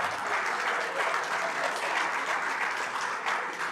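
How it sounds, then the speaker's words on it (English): A live crowd at a sporting event in Accra gives the Floku Dance Team a big round of applause: dense, steady clapping that holds at an even level throughout. "shall we do a big round of applause for Floku Dance Team?"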